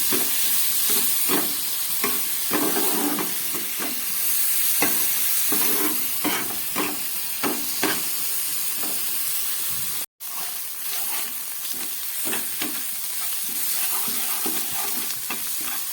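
Onion and tomato frying with prawns in a pan, a steady close sizzle broken by repeated scraping stirs of the spatula, with a brief cut to silence partway through.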